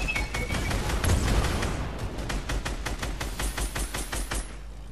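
Rapid automatic gunfire from a gunner in Fortnite, a dense sustained burst of shots that thins into separate evenly spaced cracks, loud and close with game booms underneath.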